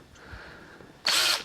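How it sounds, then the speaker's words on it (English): A power drill bores into 2mm aluminum sheet, a faint whine for about a second, then a loud, dense burst as the bit bites through the metal, cutting off abruptly. "Now we just drill a few holes"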